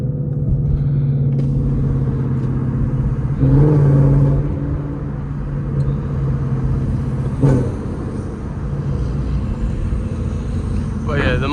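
A Ford Mustang GT 5.0 V8 downshifts on the move, its low rumble surging in a couple of sharp rev blips amid steady road drone, with some talk over it.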